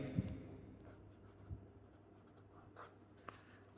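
Someone writes out linear equations in matrix form for a maths lesson: faint, close pen strokes scratch in short bursts with brief pauses, heard without any talking.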